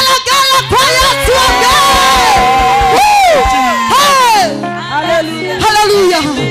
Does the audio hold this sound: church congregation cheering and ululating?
yes